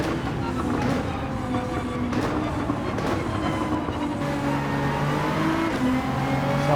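A race car in Gran Turismo 7 drones steadily under engine braking, a dense continuous engine roar with shifting pitch and no breaks.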